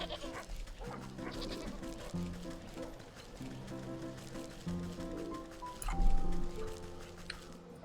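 Sheep in the video game Wytchwood bleat in several short, repeated calls over faint game music, with someone talking intermittently over them.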